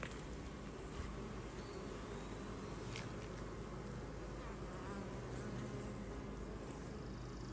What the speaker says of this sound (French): Ici, des fois, là, on a beaucoup d'abeilles, là.